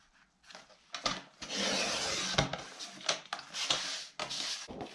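Sheets of paper being trimmed with a paper trimmer for a DIY file folder craft: several scraping, rasping cuts and sliding strokes, close and fairly loud, with short pauses between them and no talk.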